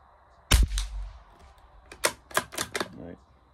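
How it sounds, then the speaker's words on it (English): Rifle shots are fired at a target through a night-vision scope setup: one sharp loud crack early, then a tight cluster of several quicker cracks, each with a short decay, the whole sequence fairly close. "Maybe I'll shoot the top cross and then I'll be able to easily see the bullet holes."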